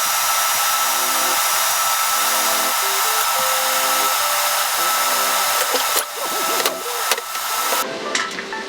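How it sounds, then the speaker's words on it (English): Loud, steady high-pitched whine of a power tool drilling and grinding a metal parachute mount on an LS-swapped Foxbody, running continuously, then faltering into bursts near the end. No voices. "So I'm gonna drill a hole in it carefully, grind all this off, put a couple welds on it."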